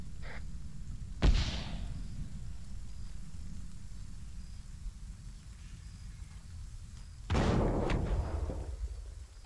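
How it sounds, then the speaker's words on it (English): Two sharp thermal detonator blasts boom in a Star Wars-themed ArmA 3 combat mission, about six seconds apart, each a sudden loud crack that fades into a low rumble. "Roger, what was that explosion?"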